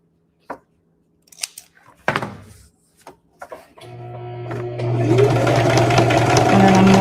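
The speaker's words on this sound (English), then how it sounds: "I'm going to sew it all the way up here to the end" A sewing machine runs a steady, loud seam along a rag bag, starting after a few handling clicks and fabric rustles and building into continuous stitching that lasts to the end.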